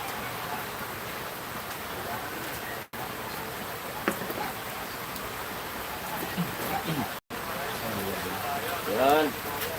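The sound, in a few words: heavy rain during a typhoon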